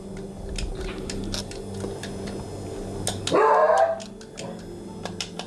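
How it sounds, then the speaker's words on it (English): Dogs bark and yip in short, sharp bursts over a low background hum, with one louder, longer yelp near the end. "Dogs, shut up!"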